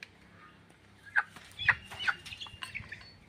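Two hens clucking nearby, short irregular clucks and squawks that rise in the second half over quiet background.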